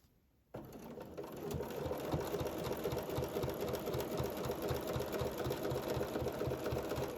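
Domestic sewing machine doing machine quilting, starting abruptly and running at a steady fast rhythmic mechanical whir with needle clatter, close and alone.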